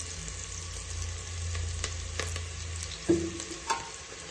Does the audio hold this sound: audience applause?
no